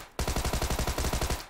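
A Thompson M1928 submachine gun firing a fast automatic burst of about fifteen rounds in the video game PUBG, loud and close, with rapid evenly spaced reports and no speech.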